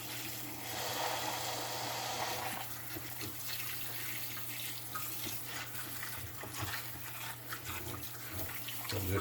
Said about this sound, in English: I want to turn on the hot water.